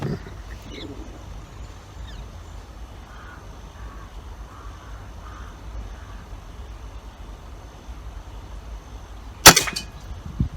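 A single shot is fired through a chronograph outdoors, one sharp crack near the end after a long stretch of quiet ambient noise, close and loud with a brief ringing tail.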